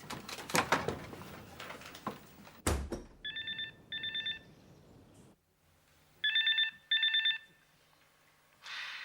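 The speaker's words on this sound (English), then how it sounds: "Now, I'm going in to phone Beryl, and we'll get this all over with as soon as possible" A telephone ringing on an outgoing call, heard from the caller's end as two paired double-ring bursts separated by a pause, following a clunk of handling noise and some background sound.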